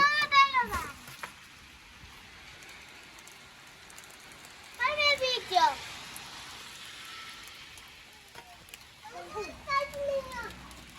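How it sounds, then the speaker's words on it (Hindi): Steady rain hisses in the background while a voice chirps and calls out in short bursts over it. "अंदर आ जाओ, बारिश हो।"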